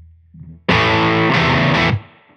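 An electric guitar through a Caroline Wave Cannon Zero distortion pedal rings out with one loud, thick chord. It is struck and sustained for just over a second, with a second accent partway through, then cuts off.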